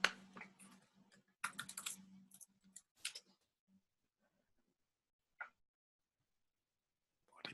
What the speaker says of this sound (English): type in, was it low caffeine pre-workout?